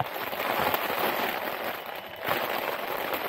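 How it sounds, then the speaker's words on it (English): Heavy rain pours steadily onto the roof of a narrowboat, heard from inside the cabin as a dense, continuous hiss and patter with no break and no talking. "Goodness me, listen to that rain."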